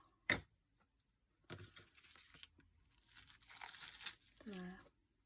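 Paper being torn for junk journal pages, a sharp rip near the start followed by several seconds of crinkly tearing and crumpling, with a short voiced sound near the end.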